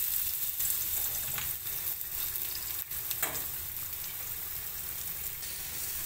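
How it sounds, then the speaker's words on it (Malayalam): Crushed garlic fries in about a teaspoon and a half of hot oil in a pan on the stove, giving a loud, constant sizzle with a few faint stirring scrapes and no voices. "ഞാൻ സ്റ്റൗവിനകത്ത് ഒരു പാൻ വെച്ച് രണ്ട് ഒരു ഒന്നര ടീസ്പൂൺ എണ്ണ ഒന്ന് ചൂടാക്കിയിട്ടുണ്ട് അതിലേക്ക് ഒരു ടീസ്പൂൺ വെളുത്തുള്ളി ചതച്ചത് ഇട്ട് കൊടുക്കുക"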